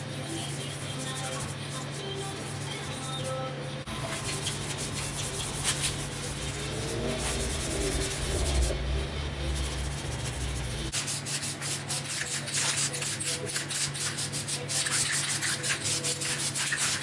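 Sandpaper scuffs steadily across the painted frame of a 1981 Honda CX500 motorcycle, a continuous close rubbing that runs throughout, with brief pauses and shifts in stroke, under a low background hum.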